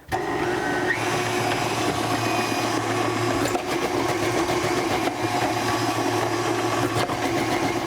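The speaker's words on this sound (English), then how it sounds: "that setup with the KitchenAid Stand Mixer and those attachments really made quick work preparing this large amount of ingredients" A KitchenAid stand mixer with a chopping attachment grinds through onions in a steady, loud mechanical whir that holds without pause, with faint rattles on top of the motor hum.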